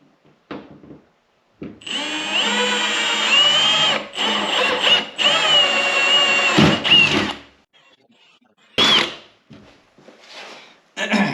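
A power drill with a 3/16 drill bit bores into a Ski-Doo Rev MXZ 550F snowmobile tunnel during a tunnel protector install. Two whining bursts of drilling sound close up, with short clunks and handling noises between and after them.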